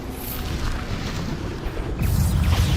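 A Bombarda spell blast in Hogwarts Legacy: a muffled, rumbling boom rolls through steady game noise, with a stronger low surge near the end.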